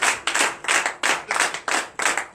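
A congregation clapping for Jesus during a night deliverance and prophecy church service, loud, close rhythmic claps in quick repeated bursts, steady and unaccompanied by talk.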